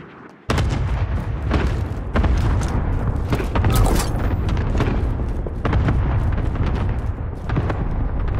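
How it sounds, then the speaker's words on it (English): A cluster strike lands in Call of Duty Warzone, a string of deep booming explosions rolling in after a sudden onset and continuing steadily, loud, rumbling and layered with scattered distant gunfire. "Cluster strike away."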